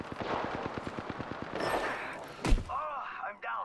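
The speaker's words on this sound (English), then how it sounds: "They're shooting at me." Rapid burst of video game gunfire in a ranked shooter match: a fast, evenly spaced string of shots followed by a single loud blast, with players talking over the shooting.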